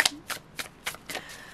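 Thin oracle cards being riffle shuffled by hand, a series of five or six quick, crisp fluttering bursts in an even rhythm, close and clear with no talking.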